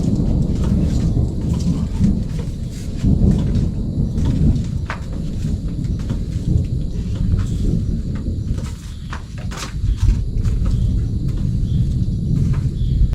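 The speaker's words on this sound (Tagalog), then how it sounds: "bumuhos na po yung ulan" Heavy rain pours steadily at a camp, a loud, dense hiss with rumbling thunder rolling underneath throughout.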